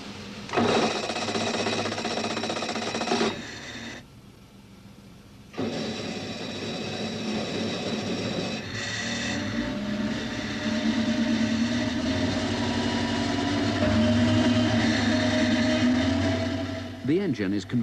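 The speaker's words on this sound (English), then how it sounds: "By February, the 4-cylinder prototype is on the dynamometer." Cosworth 4-cylinder turbo prototype racing engine from 1986 running on a dynamometer: a loud, steady mechanical drone that stops briefly, resumes, and rises in pitch near the end.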